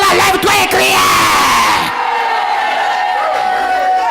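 A church congregation shouts and yells together loudly for a couple of seconds, then a single sustained voice carries on over lingering crowd noise as the outburst fades.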